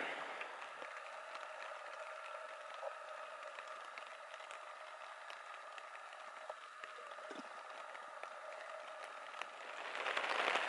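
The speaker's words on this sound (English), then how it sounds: "it rained like this all day yesterday after my last video and all last night, and it's still raining" Steady rain falls on the Continental Divide Trail near Augusta, Montana, a soft, continuous hiss with scattered faint drips, fairly quiet and unbroken, swelling slightly louder at the very end.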